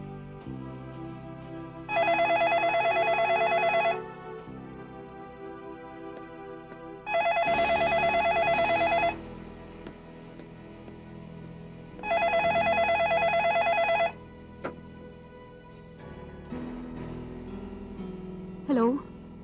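A telephone rings in repeated two-second bursts of bright electronic trilling, three rings spaced by pauses, loud and close, with people talking faintly underneath.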